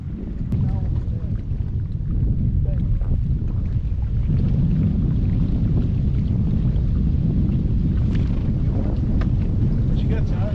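Strong wind buffets a fishing boat out on an Ozarks lake in cold weather, a dense low rushing and rumbling across the microphone that never lets up, with faint knocks and scattered sounds over it.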